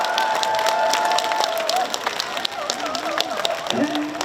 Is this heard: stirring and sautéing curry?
no